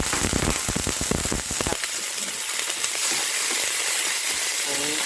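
Onion frying in a pan until golden brown gives a steady, bright sizzle and crackle, preceded by a brief burst of busier clattering at the start, loud and continuous with no talking.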